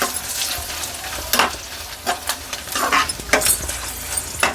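Dried red chillies fry in hot oil for a Telugu fenugreek-leaf chutney, giving a steady close sizzle with sharp crackling pops and a few clinks as they are stirred, with no talking.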